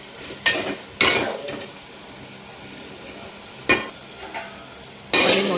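Onions stewing in a covered pan give a steady soft sizzle; the lid comes off and a spatula stirs them in a few sharp scraping strokes, close up, with no talk.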